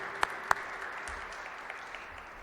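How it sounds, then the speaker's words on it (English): An audience at a music education advocacy press conference claps faintly in thin, scattered applause that fades into room tone, with two sharper isolated claps near the start. "Give them another nice round of applause."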